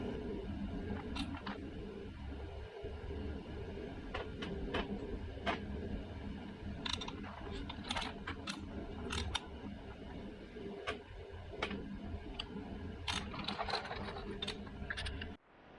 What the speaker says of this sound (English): these flywheel bolts have to be torqued to 76 foot-pounds, so I'm going to torque them to 35, then 55, then 76